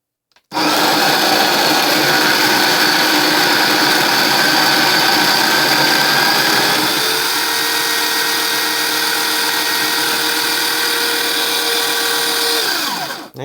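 A Bodum Bistro conical burr coffee grinder runs loud and close for about thirteen seconds, a steady buzzing whir that shifts to a lighter, even hum partway through as the beans clear, then spins down.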